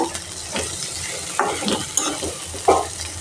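Potatoes dropped into a pan with chopped ginger and garlic, frying in oil: a soft sizzling hiss punctuated by several distinct stirring clanks and scrapes from a spatula against the pan.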